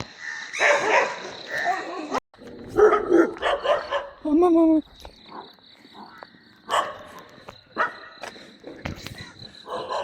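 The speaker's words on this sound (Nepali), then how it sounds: "जहाँ जान्छ त्यही भुक्छ" Neighborhood dogs bark repeatedly during a night walk near Doleshwar Mahadev in Nepal, in short bursts with a drawn-out whimpering yelp, mixed with people talking nearby.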